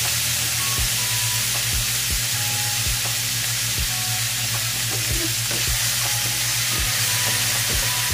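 Meat browning for adobo in a pan, a loud continuous sizzle and hiss of frying with steady rhythmic scraping taps of a utensil stirring, close up and without talk.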